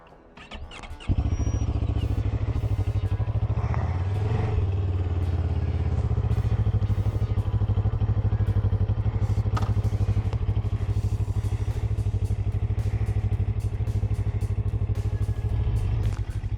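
A CF Moto CLX 700 motorcycle runs under way, its engine a steady, loud, throbbing drone with a strong low hum, heard close and continuous after a brief quieter start, with occasional clatter over it.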